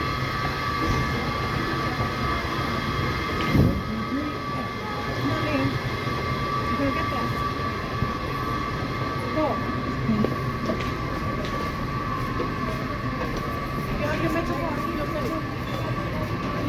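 WMATA Red Line metro trains, 7000-series, Kawasaki 2000-series and Breda cars, running at Dupont Circle underground station: a continuous loud rumble and hum with faint wheel squeal, echoing in the station, plus a brief thump early on.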